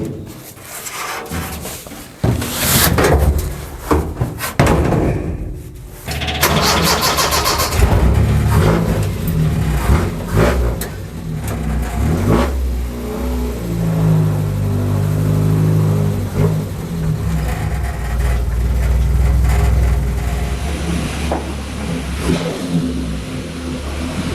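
Truck engine cranking and starting, then revving and idling as it is driven into a shop after radiator repair; loud and close, with varying engine tone over a long stretch.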